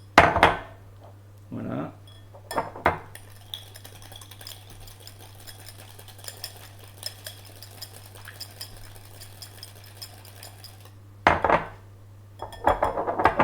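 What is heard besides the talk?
whisking almond cream in a bowl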